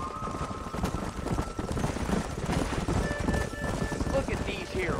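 Horse hooves clip-clop at a walking pace under rainy ambience in the video game Red Dead Redemption, with scattered game sound effects and background voices.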